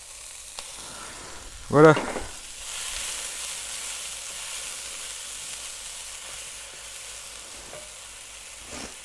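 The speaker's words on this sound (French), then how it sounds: "on va rajouter les 3 oignons que j'ai coupés en morceaux" Chopped onions sizzle in oil in a pan on a Weber barbecue, a steady close hiss that starts after a brief clatter and a short spoken word.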